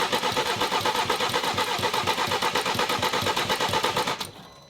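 An old BMW engine that hasn't run in years cranks over with fast rhythmic chugging pulses, loud and close, then cuts off abruptly near the end.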